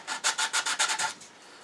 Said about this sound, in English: I think I'll just do a little bit more sanding